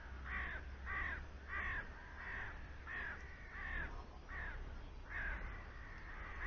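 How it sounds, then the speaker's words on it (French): Crows caw in a steady series of harsh calls, fairly distant, repeating about once a second against a quiet outdoor background. "On entend toujours les corneilles qui chantent."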